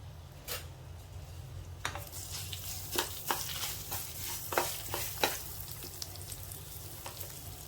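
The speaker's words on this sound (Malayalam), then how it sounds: "അപ്പോൾ നമുക്കിന്ന് വറുത്തിട്ട് പൊടിച്ചെടുക്കാം" Soft frying hiss from a hot pan with oil as chillies roast, broken by sharp crackles and pops scattered irregularly throughout, with occasional stirring scrapes.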